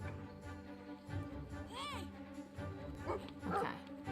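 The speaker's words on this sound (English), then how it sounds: "This is a very angry dog." Angry dog in the video game Brothers: A Tale of Two Sons, with several short yelping barks and whimpering whines over a low game background hum, alongside a voice talking.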